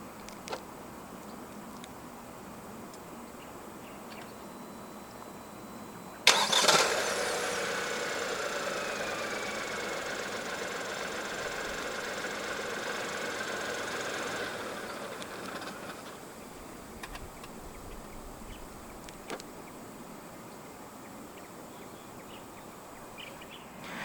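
A 2024 Proton X50 1.5 TGDi engine turns over by remote start and settles into a steady idle for several seconds, then shuts off, leaving quiet background.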